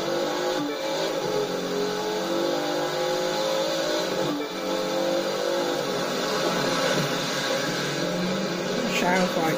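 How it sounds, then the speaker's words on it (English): A sleeper car in a racing video game roars continuously at high revs, its engine note rising and shifting as it accelerates hard, loud and close throughout. "That car's really moving."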